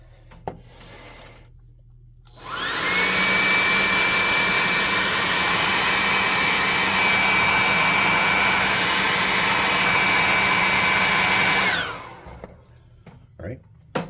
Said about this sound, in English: So I'm going to get my hot air gun on him.